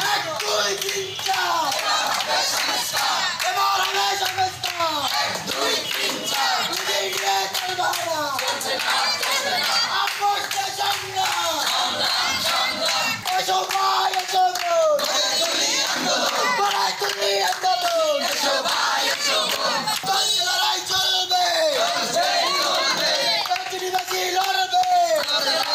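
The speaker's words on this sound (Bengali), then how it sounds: "এ সময় তারা বিভিন্ন স্লোগান দেয়।" Students and aggrieved people protesting at a hospital in Nalchity chant slogans in loud, rhythmic call-and-response waves, with clapping and a dense crowd roar throughout.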